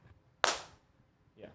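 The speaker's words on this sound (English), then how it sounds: "Let me clap." A single sharp hand clap, made to sync a podcast recording, cracks out close and loud, then decays quickly. A faint voice sound follows about a second later.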